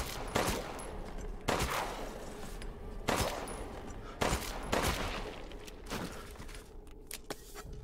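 Pistol shots in the video game Resident Evil Village, sharp loud reports spaced about a second apart, roughly five or six in total, over a low ambient background.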